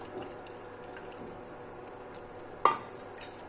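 Soft scraping and stirring of flour batter into boiling water in a pot, with a low bubbling background and two sharp clinks of a utensil near the end.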